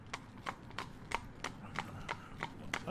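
A mare trots on a hard surface, her hooves clip-clopping in a steady, even rhythm of about nine beats, moderately close, with quiet background noise and no talk.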